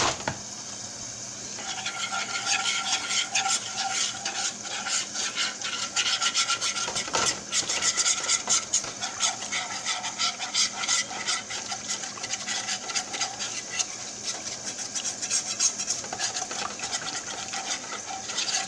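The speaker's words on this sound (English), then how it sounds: "Now, we're going to whisk it up in there." Flour whisked into pan drippings and burnt bits for chicken fried steak gravy, a rapid, continuous scraping rasp of a whisk against the pan, close and steady for the whole stretch.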